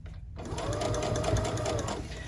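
A sewing machine stitches fabric for a reading pillow in a short, steady whirring run that starts abruptly after a brief silence, close and fairly loud.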